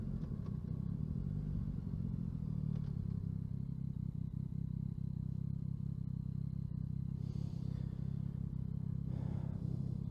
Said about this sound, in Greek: Ποια εξάτμιση είναι πιο δυνατή, ποια έχει πιο μπάσο ήχο.